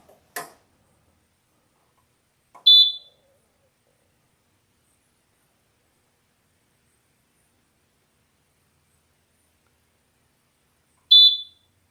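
A device gives two short, shrill electronic beeps roughly nine seconds apart in a quiet room during leather bag making, preceded by a faint brief click.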